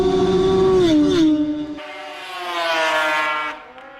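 Racing snowmobiles at the Canadian Power Toboggan Championships in Beausejour, Manitoba, whine past the track, a high engine tone sliding downward, then a second machine rising and fading away.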